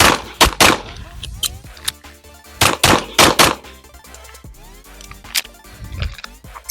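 Shots from a Smith & Wesson M&P 5-inch polymer pistol during a competition string, loud sharp reports fired in quick pairs and short bursts with brief pauses between groups.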